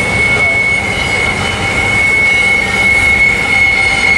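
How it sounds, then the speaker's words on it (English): A westbound freight train led by an ACE locomotive passes close by at Cajon Pass, a loud steady roar of rolling cars with a sustained high wheel squeal running throughout. "Here comes the westbound now with a, looks like an ace leading this."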